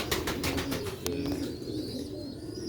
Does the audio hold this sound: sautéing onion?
no